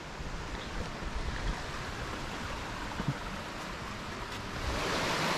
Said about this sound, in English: We've come to the second waterfall.